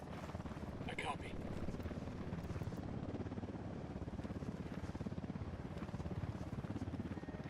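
A helicopter in the Ghost Recon Wildlands video game, its rotor chop pulsing steadily and evenly through the whole stretch, with voices faintly present under it.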